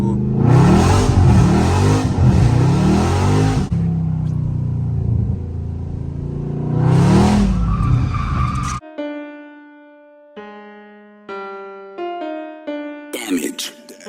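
A Dodge Charger Scat Pack pulls hard in low gear on a wet road, its engine roaring loud and close in bursts, then music with steady tones takes over.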